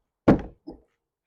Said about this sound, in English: So I'm going to shut this back door